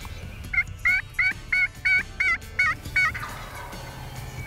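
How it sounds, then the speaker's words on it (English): A wild turkey gobbles during a turkey hunt in a rapid burst of about eight quavering notes, loud and close, then fades into rustling background noise. "He's gobbling like crazy"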